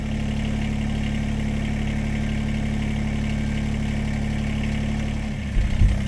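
A tractor engine idles on a goat farm with a steady, loud low drone and constant mechanical hum throughout, and a few rough bumps and thuds near the end.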